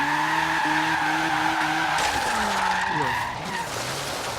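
A rear-wheel-drive car drifts in Forza Horizon 3, its engine droning while the tires squeal and skid in a sustained, shifting screech, with the engine pitch sweeping down as the slide unwinds.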